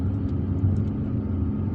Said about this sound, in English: Now I'm driving in one of the in one of the apartment complexes of Ain Naadja